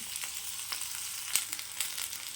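Ingredients sauté in oil in a pan for a fish curry masala, making a soft, low sizzle with a few light stirring taps close by.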